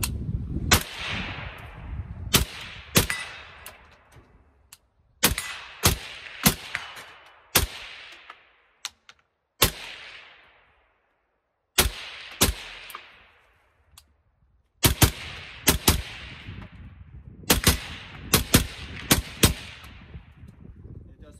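Rifle shots from a Faxon 11.5-inch rifle at an outdoor range ring out sharp and loud, in irregular bursts of two to five rapid rounds separated by pauses, each crack trailing into a decaying echo.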